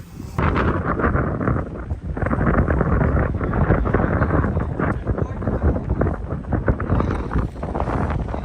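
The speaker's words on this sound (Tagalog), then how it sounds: "Lakas ng hangin, kaya ba?" Strong wind buffets the microphone outdoors, a dense, continuous roar that stays loud and steady for the whole stretch with gusty surges throughout.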